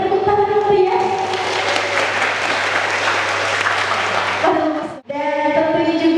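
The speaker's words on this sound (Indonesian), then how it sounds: "Boleh diberikan tepuk tangan dulu ya" Steady, dense applause fills a school hall during a journalism training event for Gen Z students at a vocational high school in Tapin Selatan, loud and sustained for about five seconds before stopping abruptly, with a voice speaking over it.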